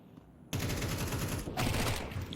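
Rapid, dense gunfire from a Counter-Strike match on the Nuke map bursts in abruptly and continues as a sustained volley, briefly dipping before resuming, loud and close against the game's background.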